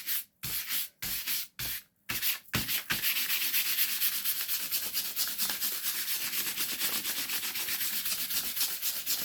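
Brush scrubbing wax onto a grungy journal cover, a close, steady swishing rub that starts in a few separate strokes and then runs continuously in a fast rhythm.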